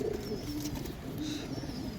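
Pigeons coo in a loft, low throaty calls rising and fading, with a few thin high chirps overhead and a constant background hum.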